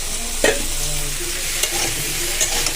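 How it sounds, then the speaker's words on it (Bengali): Fish frying in a pan of oil, a steady close sizzle and crackle with a few sharp utensil clinks and scrapes from stirring nearby. "আর এখানে মাছ ভাজা হচ্ছে"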